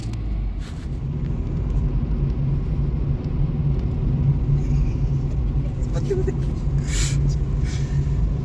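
A car drives and turns, its engine rumbling steadily with continuous road noise heard from inside, and people talk intermittently over the drone.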